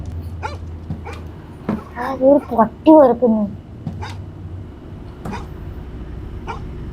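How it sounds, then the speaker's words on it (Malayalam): Dogs barking in the horror video game Fears To Fathom, a cluster of sharp yips and whining barks in the middle with scattered single barks before and after, heard under someone talking. "എടാ പട്ടിയൊക്കെ കുറയ്ക്കുന്നു"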